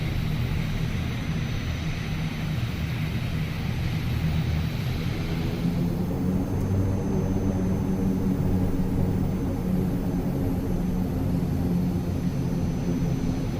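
ATR-72 turboprop airliner engines during takeoff, heard from the cockpit as a loud, continuous roar and drone whose higher hiss drops away partway through.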